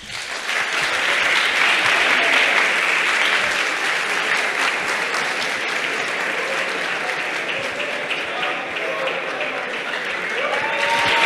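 An audience applauds the hackathon winners Rack Attack at the HackUPC 2025 closing ceremony. Dense, even clapping fills the room and holds steady from start to finish.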